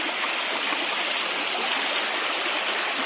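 Floodwater rushing through village paddy fields like a river during a major flood, a dense, continuous roar of flowing water close by, steady and loud with no voices.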